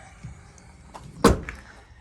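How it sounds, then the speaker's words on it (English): A Dodge Ram pickup door, a high-mileage truck with salt rust, is popped open with a single sharp latch clunk near the middle, followed by a fainter rattle, close and otherwise quiet. "If we come up and pop the door open,"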